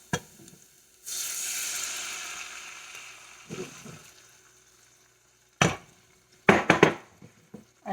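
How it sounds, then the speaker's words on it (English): Broth poured into a hot pan sets off a loud sizzling hiss that slowly fades, followed by a few clattering knocks of a pot or utensil. "Now we're going to add our broth."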